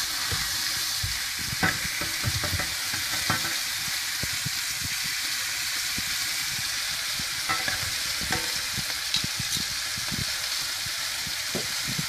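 A rib eye steak sears in a hot pan after being flipped, giving a continuous loud sizzle with scattered sharp pops and crackles across the whole stretch, without talk.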